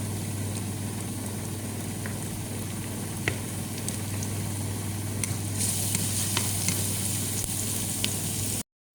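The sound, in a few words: sautéing onions and tomatoes in a pan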